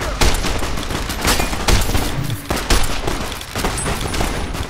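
Dense, loud gunfire crackles through a firefight in Fallout: New Vegas, with rapid overlapping shots and several heavier bursts spread over a few seconds and no voice on top.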